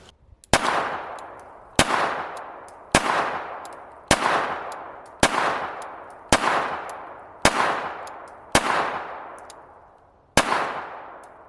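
A Beretta Tomcat 30X .32 ACP pistol fires Norma 73 grain full metal jacket rounds: nine sharp, loud shots at a steady, unhurried pace, each followed by a ringing echo that fades before the next.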